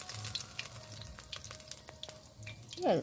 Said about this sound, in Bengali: এইভাবে আমি সব বড়াগুলো ভেজে নেব